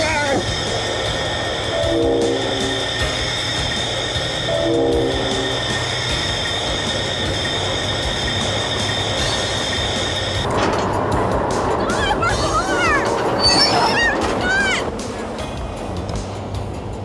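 A train rolls steadily along the tracks with a sustained horn blast sounding over the running noise, then a busier stretch of rumbling and higher squealing tones, with voices talking over it.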